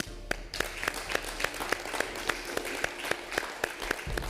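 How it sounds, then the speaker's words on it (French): Small audience at a cooking contest applauding a contestant, steady rhythmic clapping in unison at roughly three to four claps per second, moderately near and sustained throughout. "Et on t'applaudit"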